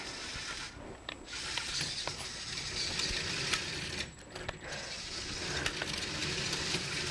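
A Vex IQ competition robot runs its impeller and flywheel to shoot balls, a faint whirring, rattling mechanical hum with brief ticks and clicks from a short distance, no talking.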